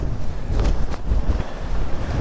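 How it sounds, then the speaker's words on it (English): Strong gusty wind on a Jura mountain trail buffets the microphone in heavy low rumbling bursts, rising and falling without pause. "And it's very windy today. Very windy. I think windier than forecast."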